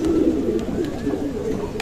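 Ghora breed pigeons coo in a loft, a low, continuous rolling murmur of overlapping calls, close and fairly loud throughout.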